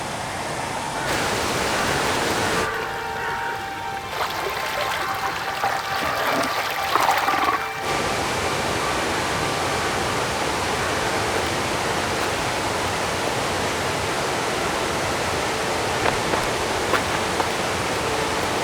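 A stream's running water makes a loud, continuous rushing wash that carries on without a break, close by and with no speech over it.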